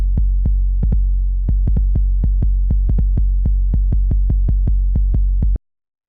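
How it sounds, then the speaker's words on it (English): An 808 bass drum pattern for a footwork track, deep booming kicks in an irregular, bouncing rhythm of about two dozen hits, some in quick doubles, played alone and cleanly before stopping abruptly. "The first sound we have here is the 808, which sounds like this."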